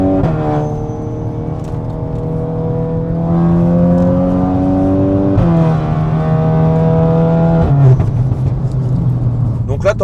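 A Volkswagen Golf 8R with about 500 hp accelerates hard, its engine note rising through gears with shifts, heard from inside the cabin while people talk over it.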